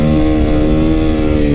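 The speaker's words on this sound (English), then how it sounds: "I'm just gonna crank the throttle." A supermoto motorcycle engine revs hard as the throttle is cranked, a loud, steady, close growl that holds a high pitch for the whole moment, with no talk over it.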